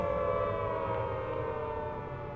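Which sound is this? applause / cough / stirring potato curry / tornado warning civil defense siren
tornado warning civil defense siren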